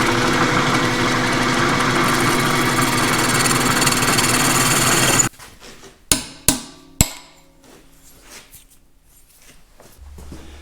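A machine boring out a welded steel steering yoke cap half for a tractor steering joint: a loud, steady broadband cutting roar that stops halfway, followed by three sharp metallic knocks and quiet shop sounds.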